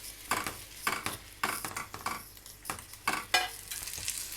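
A flipped vegetable chapati omelette pressed down in a hot pan gives about eight rhythmic spatula presses and scrapes over a constant close sizzle, with light clinks of metal on the pan and no voices.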